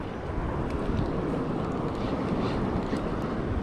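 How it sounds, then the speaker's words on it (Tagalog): Steady wind roars and buffets the microphone while shore jigging, a broad continuous rumble with no voices, exposed near open water. "Medyo may hangin ah."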